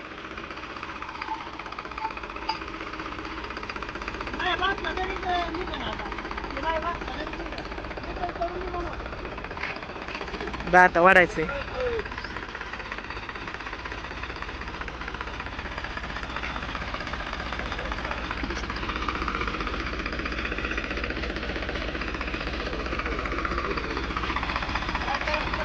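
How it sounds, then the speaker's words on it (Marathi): Tractor reversing on a farm to hitch up, a continuous rough diesel engine chug with rattling, a clanking burst midway, with people talking over it. "ट्रॅक्टर आता रिवर्स करायला लागलेले आहेत"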